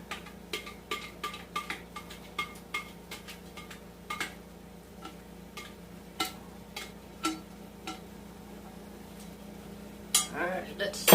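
Utensil scraping around a mixing bowl of green bean casserole ingredients, a series of short clinks and scrapes in an irregular rhythm over a steady low kitchen hum, ending in a brief louder clatter.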